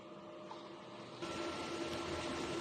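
An inkjet printer with an ink tank system running a print-head heat-cleaning cycle, a quiet steady mechanical whir with faint tonal hum that grows slightly louder partway through, heard alone.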